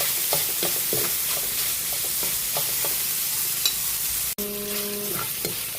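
Ground pork sautéing with Knorr cubes in a pan makes a steady sizzle broken by scraping stir strokes, then a sharp clank and a brief tonal ring near the end, close and loud, no talk.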